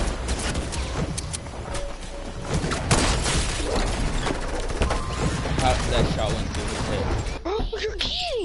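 Rapid gunfire bursts and sharp shots in a shooter video game, shotguns among the weapons, dense and continuous with background game effects and a player's voice talking over them.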